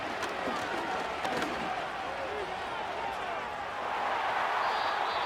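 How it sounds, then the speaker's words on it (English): A simulated stadium crowd in Madden NFL 25 roars steadily at a 49ers vs Packers playoff game, trying to force a false start on third and inches. The dense, constant roar comes with a commentator talking over it. "this crowd trying to force a false start here"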